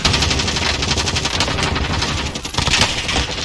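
Gunfire in the battle royale game Call of Duty Warzone Resurgence: loud, rapid automatic bursts that fire almost continuously, close and dense, with a brief dip before more shots.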